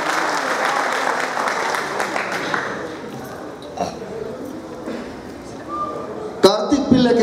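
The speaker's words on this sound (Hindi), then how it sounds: "एक जोरदार तालियां पूरे ग्रुप के लिए" Audience applause at a kirtan night in Suva, broad and steady at first, then thinning and fading, with a few sharper sounds and voices near the end.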